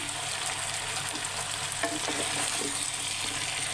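Cauliflower and rohu fish curry being stirred in a hot pan, a continuous close sizzle with scraping stir strokes midway, no talk.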